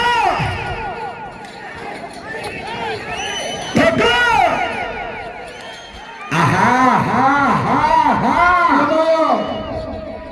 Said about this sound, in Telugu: గట్టిగా కేకలు. చప్పట్లు, మీ చప్పట్లే నాకు లైలా దుప్పట్లు.